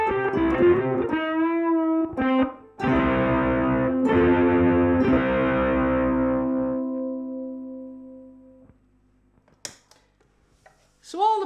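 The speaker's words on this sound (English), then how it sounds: "Crunch distortion working, and the US Dream distortion" An ukulele played through crunch and overdrive distortion pedals, strummed chords and picked notes with a gritty, sustained tone that fades into quiet, followed by brief plucks near the end.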